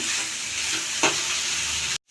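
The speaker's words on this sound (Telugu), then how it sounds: "చూసారా ఉల్లిపాయలు ఎగిపోయినాయి" Onions, with tamarind, fry in a pan until browned for a spinach and onion masala, with a steady, close sizzle throughout. A brief scrape of stirring comes midway, then the sound cuts off abruptly at the end.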